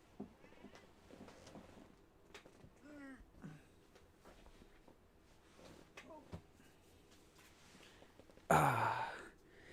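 A pet cat gives a few soft, quiet meows and sighs at home in a quiet room, with a sudden loud burst of noise near the end.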